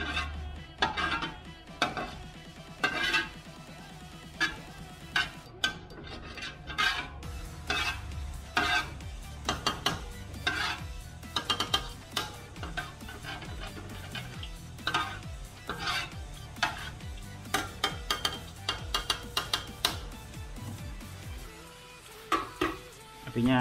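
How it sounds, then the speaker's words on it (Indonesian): A utensil stirs ultra-cheesy noodles frying in a pan over a high flame, giving steady scraping and clacking strokes over a soft sizzle, close and moderately loud. "Kita aduk-aduk lagi."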